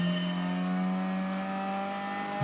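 Car engine idling with a steady droning tone in the Gran Turismo 6 racing game, fitted with an aftermarket exhaust, then a brief rev rising at the very end.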